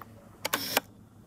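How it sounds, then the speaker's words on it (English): A Nikon F100 35mm film camera fires its shutter once, giving a quick double mechanical clack with the film advance motor whirring briefly between, close and crisp against a quiet room. "it just fires the shutter"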